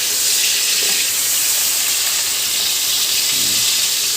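Chayote and cucumber sauté in a pan with olive oil, garlic and onions, giving a steady, loud, close hiss and sizzle that runs without a break and is heard alone.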